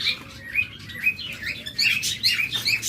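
Pet lovebirds and budgerigars chirp in quick, bright, overlapping bursts, several birds close by, busy and lively over a low background hiss.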